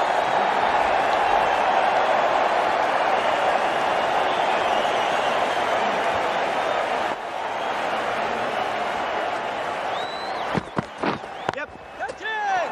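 A cricket stadium crowd cheers in a constant roar in the Cricket 19 video game, the noise dipping slightly midway. Near the end, sharp sweeping whistle-like sounds and brief thuds cut through the crowd.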